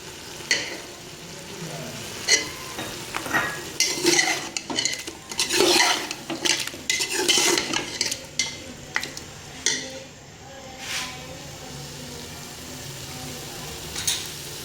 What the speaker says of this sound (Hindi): और अब इसके अंदर ही हम प्याज भी डाल देंगे जो मैंने चॉप करके रखा हुआ था